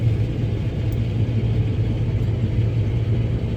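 A combine harvester's header starts up and runs, a steady low mechanical rumble and drone with no breaks, close and moderately loud.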